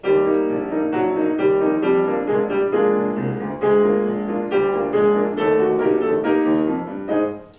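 A piano plays a steady ragtime-style tune with even, straight rhythm, chords and melody moving on the beat without rhythmic off-beat accents.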